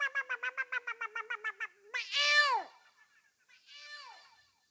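A man imitates cats facing off: a run of about a dozen short, rhythmic yowling calls, then a long drawn-out wailing meow and a softer second yowl, all close and fairly quiet.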